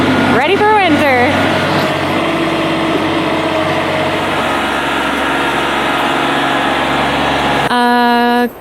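A 1980s Snow Cat's engine running, a loud steady mechanical drone with strong harmonic whine, opening with a short rising and falling rev and ending in a sharp tonal burst as the sound cuts off.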